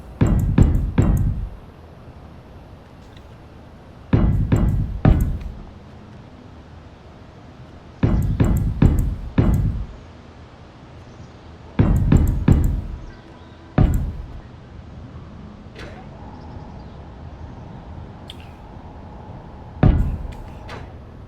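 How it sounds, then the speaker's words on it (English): Block welding in the video game Space Engineers, repeated bursts of loud close clanking and knocking in short clusters separated by quiet pauses, no talking. "Now, I have welded this block up"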